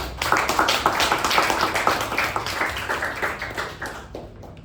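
Audience clapping at a Toastmasters club meeting, a dense, steady patter of many hands close by that holds for several seconds and then thins toward the end.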